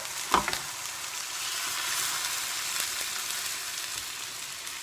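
Stock mixture poured into a hot risotto pan of frying fish flakes, a brief clatter followed by a steady, broad hiss of bubbling liquid that holds evenly throughout, close and without speech.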